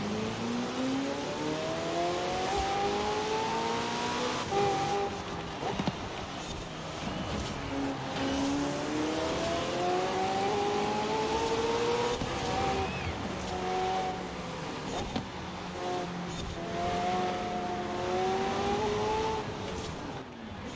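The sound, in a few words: race cars overtaking in video game Forza Horizon 4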